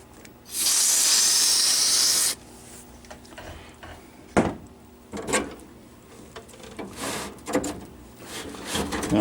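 A can of DeoxIT contact cleaner sprays in one sustained hiss of about two seconds into an arcade machine connector, followed by scattered close clicks and rubbing handling noises.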